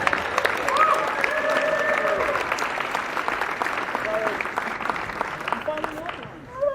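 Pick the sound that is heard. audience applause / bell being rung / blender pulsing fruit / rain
audience applause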